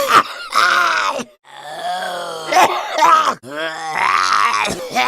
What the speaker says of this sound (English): He also voiced some of the zombies in the Left 4 Dead games, which, yeah, I can hear it.